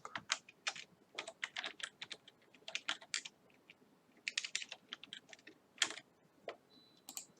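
Keys clatter on a computer keyboard during code editing, in quick irregular bursts of clicks with short pauses, close and moderately loud, with no voices.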